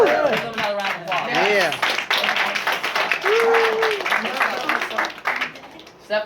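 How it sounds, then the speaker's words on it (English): Audience applause at a communication talk, a continuous wash of clapping throughout, mostly under a speaker's excited voice talking over it. "Give them another round of applause"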